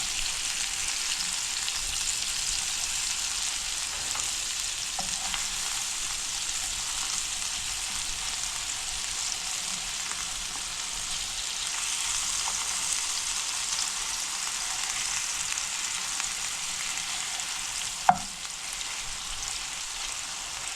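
Chicken slider patties fry in a pan with a steady, even hiss of hot oil that runs unbroken and close, broken once near the end by a single sharp tap.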